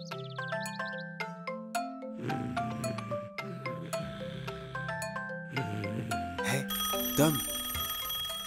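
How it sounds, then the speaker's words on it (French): A cartoon telephone rings with bright repeated chimes and bell tones over playful music, loud and close. "Le téléphone sonne."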